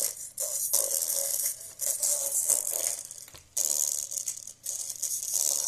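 A harsh, buzzing rattle from a faulty Asus laptop speaker, hissy and distorted, cutting in and out in uneven bursts for several seconds.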